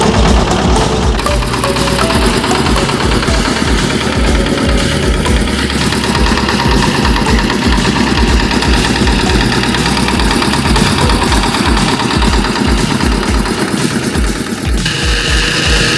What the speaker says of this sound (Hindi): यहाँ पे वाइब्रेटर चल रहा है, वाइब्रेटर का काम चल रहा है